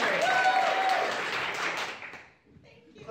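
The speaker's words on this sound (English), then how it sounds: "Clap really loud." An audience claps and applauds at a live show, a dense burst of clapping that fades out over a couple of seconds, with cheering voices mixed in.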